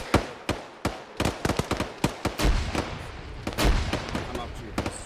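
Gunfire and a frag grenade in the military shooter game ArmA 3, sharp irregular shots cracking in quick bursts with a heavier, deeper boom midway, dense and close.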